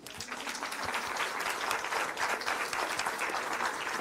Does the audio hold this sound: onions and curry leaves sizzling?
no